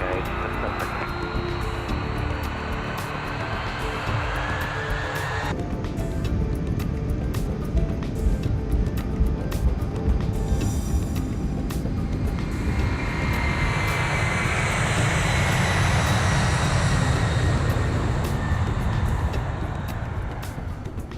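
Air Canada airliner taking off, a steady jet engine roar building and swelling over about twenty seconds, heard from inside or near the aircraft, no talk.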